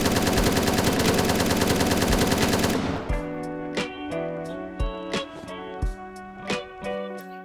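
Full-auto gunfire in the video game Zero Hour: Operation Black Dawn, with a loud continuous burst of about three seconds followed by a series of short, sharp controlled bursts over faint background tones.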